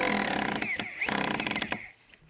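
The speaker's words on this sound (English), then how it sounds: "Using a right angle, attach the 3 deck legs with 3 3-inch screws per leg" Power drill driving 3-inch screws into wooden halfpipe deck legs, close and loud, with a whining motor burst that rises and falls, a brief pause, then a second rattling run that tails off.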